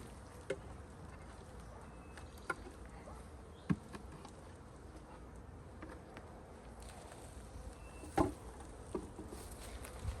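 A steady, low insect buzz of honey bees in a spring beehive of about five or six frames fills the clip, with a few brief clicks and knocks scattered over the drone.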